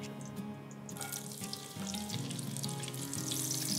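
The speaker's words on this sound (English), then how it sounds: "Let me just add the onions." Onions dropped into hot oil in a pan for a peanut and coconut jollof, the sizzle bursting up after a moment and holding steady and bright, close by and without speech.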